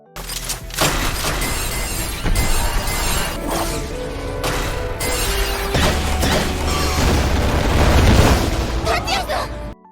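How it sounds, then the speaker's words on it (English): Anime explosion, a loud sustained blast with crashing, shattering debris and rumbling booms that rise and fall over ten seconds, dense and close throughout. "Tatsuya was blown away by the explosion"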